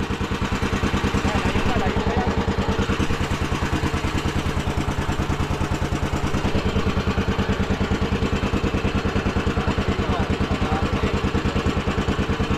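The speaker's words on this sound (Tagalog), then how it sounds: "Yan tayo ano, pagpatay ng makina. Di pa namamatay yan." A fishing boat's engine runs with a fast, even mechanical chugging and clatter, loud and close, steady throughout without being shut off.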